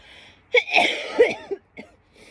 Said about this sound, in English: I also just hit the dab pen, you know, so I'm coughing